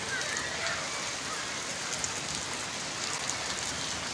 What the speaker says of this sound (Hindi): और खूब बारिश हो रही है।